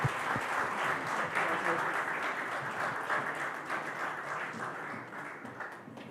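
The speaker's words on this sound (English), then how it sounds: "Huge round of applause for Chef Manu Chandra" A crowd at a food awards ceremony gives Chef of the Year Manu Chandra a loud, sustained round of applause that fades gradually toward the end.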